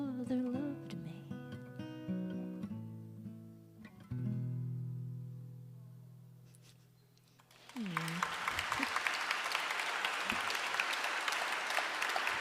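The last notes of a song by a singer-songwriter ring out and fade. After a short lull, the audience breaks into steady, continuous applause that lasts to the end.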